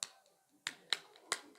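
Four crisp, close hand claps spaced unevenly in a simple rhythm for a forum clapping game, standing alone against a quiet room.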